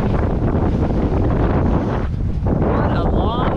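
Strong wind roars across the microphone aboard a sailboat off St Kitts and Nevis, a loud, continuous rushing broken by a brief lull, with water noise underneath.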